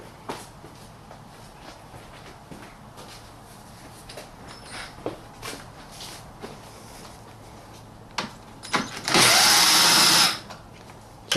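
A power tool drives an 8mm bolt on the coil packs of a 2008 BMW E91, with a short loud whir near the end after scattered clicks and handling noises under quiet ambience.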